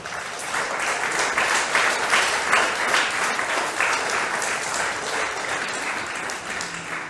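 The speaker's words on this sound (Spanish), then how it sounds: "El otro aplauso, Arben." Audience applause at a Spanish-language church teaching session, a continuous wash of many hands clapping, loud and even from start to finish.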